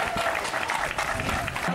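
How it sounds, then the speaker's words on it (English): Lively crowd applause for Mayor Duggan at a Juneteenth gathering on Marvin Gaye Drive, steady dense clapping with scattered cheers and voices mixed in. "One more hand clap for Mayor Duggan."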